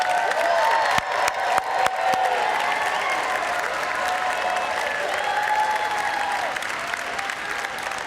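A chapel audience applauds preview weekend guests at Azusa Pacific, a steady, full wash of clapping from a large crowd with a few sharp claps near the start, continuing without letup.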